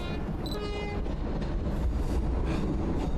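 A train rolls past in the horror video game The Gretlow Tapes, a brief horn toot at the start giving way to a loud rumbling rush of rail noise.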